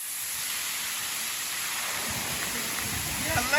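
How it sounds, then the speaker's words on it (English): Heavy rain pours down steadily in a forest, a dense broadband hiss throughout, with louder low splashes and patters building toward the end. "all of the rain we didn't get during our foresty walk is what we get now"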